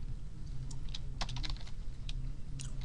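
Keys clatter on a computer keyboard in short, uneven bursts of typing, close and fairly quiet, with no voice.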